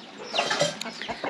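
A rooster being caught in a Nepali village clucks and squawks in short, agitated bursts, close and fairly loud over a busy background.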